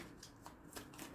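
Oracle cards are shuffled for a card reading, a soft, close, continuous riffling and papery slapping over about a second, quiet and alone.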